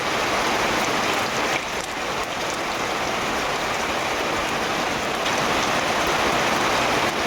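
Dried red chillies, bay leaf and whole cumin hit hot oil for a Bengali vegetable dish, giving a dense, loud, continuous hiss and crackle, close up with no talking.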